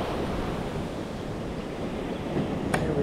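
Ocean surf rolls in at Jensen Beach on a south wind as a steady, broad wash of breaking waves. Wind rumble on the microphone runs underneath.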